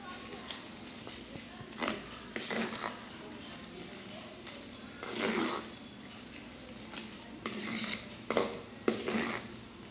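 Banana cupcake batter made with wheat flour and milk is stirred in a bowl, giving soft intermittent scraping and clinking bursts with quiet pauses in between, close up and moderately loud.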